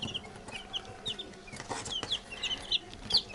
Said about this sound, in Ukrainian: Такі маленькі курчатка тут гріються.